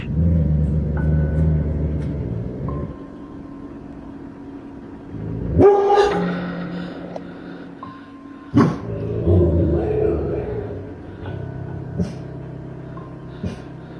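Dog barking heard in a played home video clip from a house in Alabama, a few sharp barks standing out over a low rumbling background with quieter stretches between.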